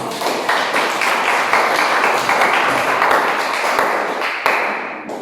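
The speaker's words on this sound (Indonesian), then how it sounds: "kita tepuk tangan" Group applause in a classroom, a dense, steady wash of many hands clapping close by that lasts several seconds before tapering off at the end.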